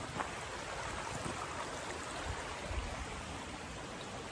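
Water trickling and flowing along a small drainage ditch outdoors, a steady soft broadband rush with faint splashing, continuous and moderately quiet throughout.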